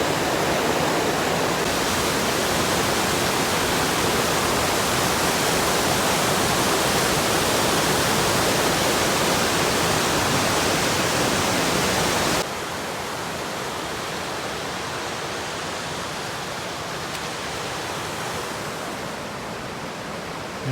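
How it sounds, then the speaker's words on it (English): Elk Creek on the Colorado Trail rushes close by in a dense, continuous roar of flowing water that drops a little in level partway through as the listener moves past. "Crossing over this creek."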